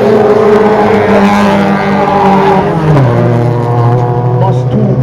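Rallycross cars race past close and loud at a two-day amateur senior event, engines snarling. One pitch drops sharply as a car passes, and a commentator talks over the racing.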